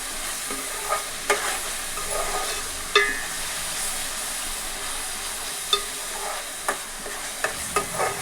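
Sea fish curry bubbles and sizzles in a pan, a continuous soft frying hiss with occasional light pops and utensil taps, close by and without speech.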